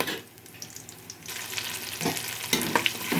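Sliced onions hitting a pan of hot ghee and oil with whole garam masala, a soft sizzle that builds into steady crackling frying, broken by a few scrapes and clicks of stirring close by.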